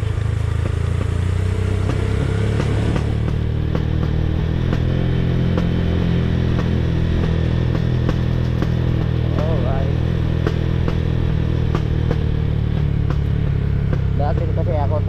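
A motorcycle engine labors up a steep, rough mountain road in low gear, a loud steady mid-pitched drone with some rattling clatter throughout, while a rider talks over it.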